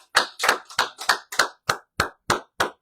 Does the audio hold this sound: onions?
no